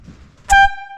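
Compressed air blown through a boat horn on the MV Geordie, a sudden, extremely loud and piercing honk with steady tones that starts abruptly and holds, then fades slightly, after faint low background rumble.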